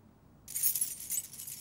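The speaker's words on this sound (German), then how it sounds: "Ich höre Schlüssel klappern." Keys jangling: a brief metallic clinking rattle starts abruptly after a near-silent half second and continues in small bright bursts, fairly close and quiet, with no talk.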